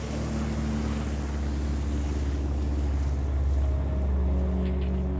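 Underwater shipping noise from passing vessels, a dense continuous low rumble with steady engine hum, forming a constant acoustic fog with no breaks.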